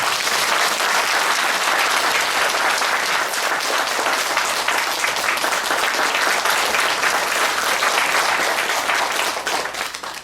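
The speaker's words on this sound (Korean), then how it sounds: "박수로 많이 감사드립니다" Audience applause after a humanities lecture by Professor Baek Jong-hyeon, a dense, loud, sustained round of clapping from a sizeable crowd that holds steady for about ten seconds before tapering off at the end.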